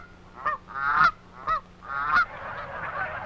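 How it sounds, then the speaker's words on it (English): Taverner's geese honk in flight, several separate loud calls in quick succession followed by a denser overlapping chorus, with no talk. "These are taverner's geese."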